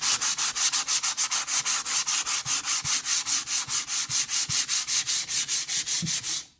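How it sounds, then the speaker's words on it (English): Steady, rapid back-and-forth strokes of sandpaper sanding lacquer paint on a window, about four strokes per second, loud and close with no talking. "when your paint gets real hot, it'll start sticking to your sandpaper, so it just tells you that you're sanding in one spot too long"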